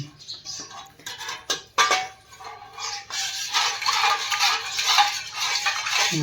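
A utensil stirs food in hot oil in a pan, giving close, irregular metallic scrapes and clinks over a steady crackling sizzle, with no talking.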